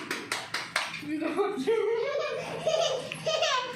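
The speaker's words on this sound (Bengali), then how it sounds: "এবার হাততালিটা ভালো করে দে" A few sharp hand claps ring out at the start to trigger a clap-activated light at home, then someone talks and laughs.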